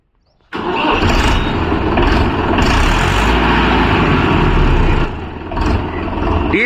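A Mahindra Yuvo Tech Plus 585 4WD tractor's diesel engine starts abruptly and settles into a loud, steady, close rumble on farmland, with a brief dip in level before it picks back up.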